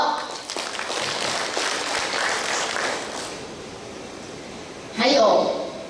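Audience applause at a conference hall, a faint broad wash of clapping fading over a few seconds while a speaker talks over it through the microphone.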